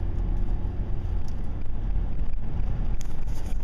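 Wind roars steadily outdoors on a snowy day at 27 degrees, a dense low rumble buffeting the microphone throughout with no voices.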